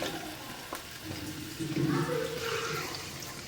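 A short pour of water hits a hot pan of frying prawns and bursts into a hissing sizzle that swells and lingers, close by, with no voices.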